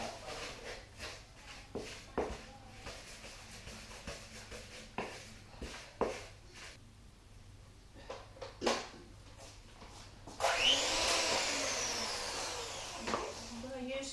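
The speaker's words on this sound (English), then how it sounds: "I'm going to use now the electric mixer. Oh, that's quite loud, isn't it?" Electric mixer starting up near the end while making shortbread, a loud sustained whirring buzz that follows handling knocks and clatter in a kitchen.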